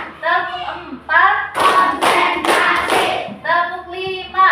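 A class of children clap a rhythm pattern together in a classroom, sharp bursts of group hand claps between stretches of children's voices chanting, close and loud.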